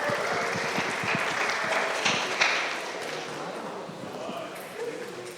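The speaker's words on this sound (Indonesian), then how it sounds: "Tepuk tangan dong teman-teman" A church youth gathering applauds as a representative is called up, a steady wash of clapping that gradually fades, with some talk under it.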